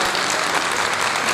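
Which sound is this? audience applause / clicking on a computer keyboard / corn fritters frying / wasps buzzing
audience applause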